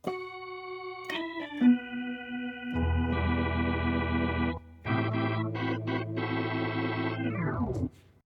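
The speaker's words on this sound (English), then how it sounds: "So the organ sounds you just heard is obviously from the organ engine." A Roland V-Stage keyboard's organ engine plays sustained chords and quick melodic runs through a rotary speaker effect, giving a swirling, wavering tone, loud and close with brief pauses.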